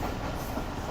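Steady rumble and rattle of the Jaffer Express, hauled by a Chinese locomotive, rolling toward Gujranwala railway station, heard from aboard as a continuous close drone.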